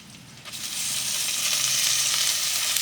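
Chicken hits a pan of browned onions and sizzles loudly, the frying jumping up in volume after a quieter start and then holding a steady, close crackle.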